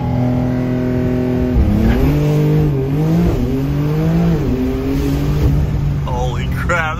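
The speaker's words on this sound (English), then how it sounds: "we'll do a little driveway launch Ruski, see what she's capable of." A Porsche launching hard from a driveway: the engine revs up loud and close, its pitch climbing, dropping at each shift and climbing again in a steady roar for several seconds.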